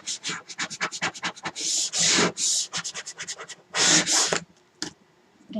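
An old plastic gift card rubbed over a stencil sheet to smooth it down, giving a close, rapid series of dry scraping strokes in quick rhythmic bursts, some longer swipes, then a brief pause near the end.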